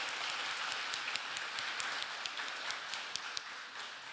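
Audience at a conference closing fundraiser clapping steadily throughout, a dense, moderate patter of many hands with sharper individual claps poking out, fairly distant.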